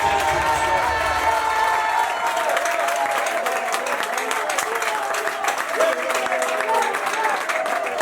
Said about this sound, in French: Est-ce que les hommes peuvent applaudir pour le gars?